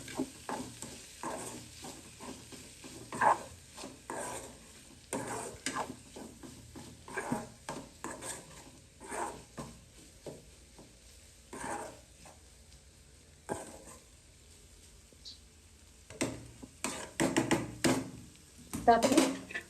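Spoon stirring grated bitter gourd (karela) bhaji in a pan on a home stove, giving a series of scraping, clinking strokes that come and go irregularly, fairly close and moderately loud.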